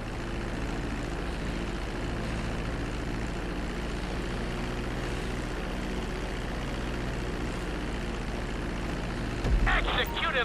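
A plane landing in GTA V, a steady droning engine hum held throughout at even loudness, with a short clattering burst right at the end.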